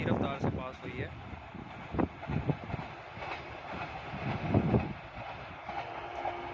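Pakistan Railways Karachi Express train crossing at high speed, a continuous broad rush of rolling wheels and wind with some rhythmic clatter, heard from trackside with a voice talking over it.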